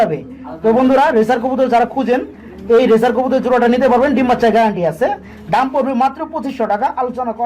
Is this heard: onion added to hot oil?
no